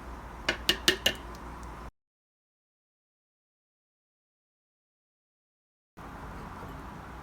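Utensils clink a few times against a saucepan as a chunky vegan cheese mixture is transferred in to cook down; four quick close metallic taps over low room noise, then a long silent gap.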